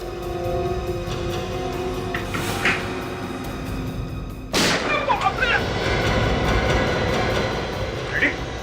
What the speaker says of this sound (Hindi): गलती से गोली चल गई सर।